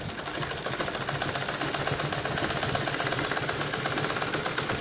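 A sewing machine stitches piping onto a blouse, running continuously with a close, steady rattling hum throughout.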